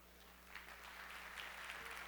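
A church congregation applauds during a worship service, a faint, distant, steady wash of clapping with small swells, heard alone without talk.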